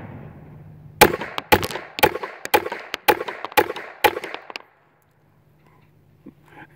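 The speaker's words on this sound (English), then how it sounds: "All right, we'll shoot this thing. 7 more shots here." An old, used Ortgies .25 auto pistol fires a rapid series of sharp, loud shots at close range, a string of cracks over a few seconds followed by quiet.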